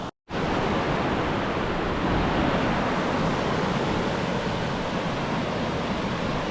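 Steady, dense rush of creek water flowing through a gorge with minor obstacles, loud and close, an unbroken broadband wash that starts abruptly after a brief silence and continues alone without voices.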